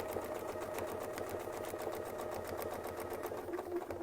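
A sewing machine runs at a fast, even stitching rhythm while quilting with a Westalee ruler on a Sew Steady table, steady and close throughout.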